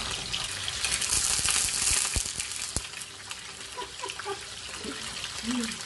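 Chicken pieces dropping one by one into hot cooking oil for a sinigang-adobo fusion dish, giving a steady broadband sizzle with crackling spatter that eases slightly toward the end.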